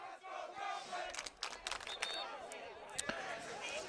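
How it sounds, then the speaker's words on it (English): Student crowd at a boys high school soccer game, Durfee against New Bedford, chanting from the stands as a steady roar of voices with sharper shouts rising above it, fairly distant, under an announcer's talk. "the Let's Go Durfee chant coming out of the crowd now"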